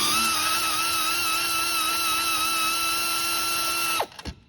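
Power tool spinning off intake studs on a Mini Cooper 1.6L S Clubman, a close, steady high-pitched whine that runs for about four seconds, then winds down quickly, followed by a few faint clatters.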